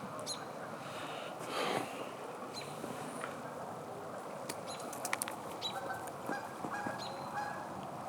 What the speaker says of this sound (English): Except for some very angry geese.